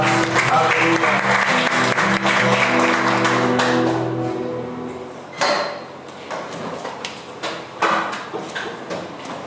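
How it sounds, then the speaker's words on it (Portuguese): Church congregation clapping during a celebration service, a dense burst of applause under voices and singing that fades after a few seconds into scattered claps and knocks. "Você pode dar uma salva de palmas, Pai"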